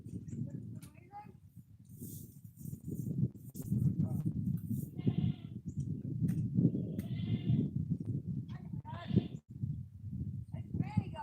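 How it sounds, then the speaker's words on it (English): Goats on a farm bleat several times at close range, short wavering calls scattered over steady rustling and shuffling, while a person talks nearby throughout. "Hi, Granny goat"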